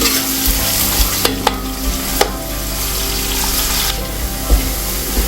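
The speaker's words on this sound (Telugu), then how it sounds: "ఇదండి వేగిపోవస్తున్నాయి" Food frying in a lidded pot while cooking mutton biryani, a dense continuous close sizzle with a few sharp crackles and pops.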